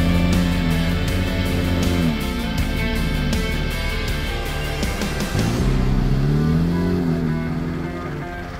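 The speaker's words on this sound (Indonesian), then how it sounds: "Mobil mengalami kesulitan dan berkali-kali ban menjadi slip" A car struggles along a badly damaged dirt road in West Sulawesi, its engine revving up and down loudly as the tires spin and slip, then the revs fade toward the end.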